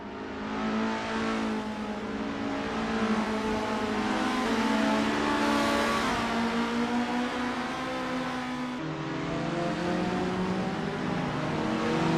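A Formula race car on a practice out lap at Vallelunga drones steadily with a sustained engine tone, rising and falling through gears as it passes, with no voices.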